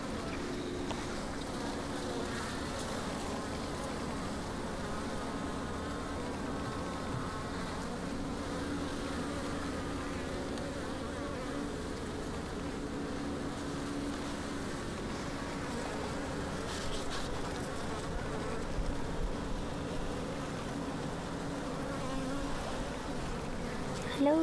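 Honey bees buzz in a dense, continuous drone at an open hive during inspection, close by and steady throughout, a layered hum of many wings with no voices.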